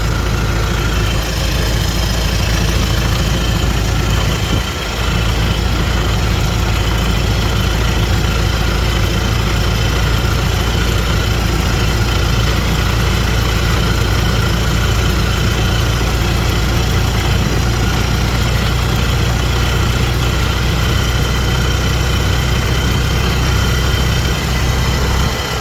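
A 1914 Ford Model T engine labours under load climbing a steep hill, a steady, loud low rumble with continuous mechanical drone throughout, no voices.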